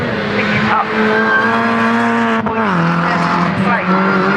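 Rallycross race cars at Croft Circuit, including a BMW Mini with a poorly running engine, roar loudly and continuously, engine pitch dipping and rising with gear changes and a brief tyre squeal, all close and dense.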